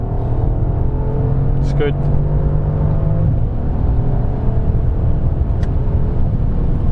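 A Mercedes S63 AMG coupe launches from a brake-held standstill and accelerates away, its engine a loud, continuous rumble that rises and fills the whole stretch, with someone speaking briefly over it.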